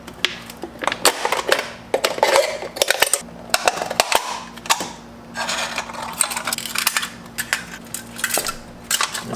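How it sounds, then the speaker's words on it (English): Heavier-duty scissors cutting open a metal can, giving sharp, irregular metallic snips, crunches and scraping clatter in close bursts, with short pauses between cuts and no speech. "let's cut this thing open. I should also mention these aren't just your regular kitchen scissors."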